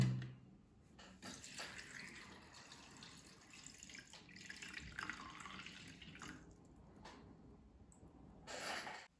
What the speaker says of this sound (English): I've got my sonicator and I will put some water inside it